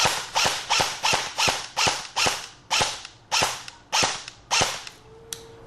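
A Palco Colt M4 AEG airsoft rifle running on an 8.4 volt battery fires about a dozen single shots, each a sharp mechanical snap with a short whir, in a fairly regular close rhythm.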